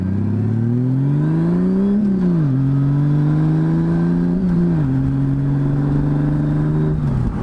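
A 2007 Honda Goldwing converted to a MotorTrike by Rider Trikes drones loudly and close while being ridden, its engine note holding steady then dipping and rising again as the throttle shifts.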